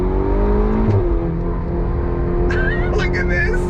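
A Ferrari GTC4 Lusso T accelerates on throttle, its engine note droning steadily and close, with a shift-like change near the start and some higher whirring later on.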